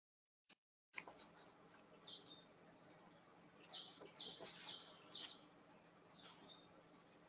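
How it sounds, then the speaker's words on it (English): Small birds chirp in short, bright bursts at a low level, a handful of quick tweets scattered over a faint steady background hiss during a webinar. "Here's some nice chirping."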